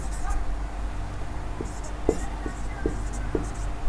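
Chalk or pen writing on a board during a chemistry lesson, short tapping and scratching strokes in an uneven rhythm, close by, with quiet speech in the background.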